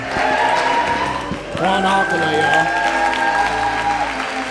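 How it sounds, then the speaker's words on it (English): Applause for a speaker at a real estate event in Sarasota, Florida: a loud, sustained wash of clapping with steady tones and voices running over it, dipping briefly midway before swelling again. "Let's give a round of applause to Miss Glenda Baker"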